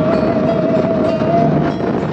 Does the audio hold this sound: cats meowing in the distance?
no